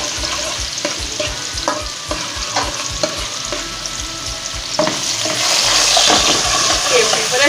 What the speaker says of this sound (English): And then we're going to fry this a little bit